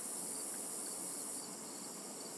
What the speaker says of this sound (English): I'm hearing some crickets